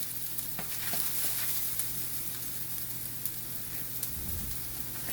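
Asparagus sizzles in a hot pan, a steady soft crackle with occasional sharper pops, close and fairly quiet with no talking.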